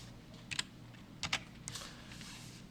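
Code being typed on a computer keyboard, two quick clusters of close key clicks followed by a softer third burst, quiet and with no talking.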